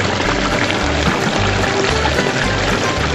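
Water pours steadily through a home-built 4-foot recirculating sluice box with about a 6-inch drop, running slowly with classified material, a continuous close rushing wash with a low pump-like throb underneath.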